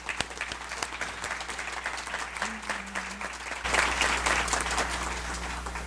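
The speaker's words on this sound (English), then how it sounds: "we'd like to give you a little hand of applause" Community networking event attendees give volunteers a hand, a room full of steady clapping lasting several seconds that swells louder partway through.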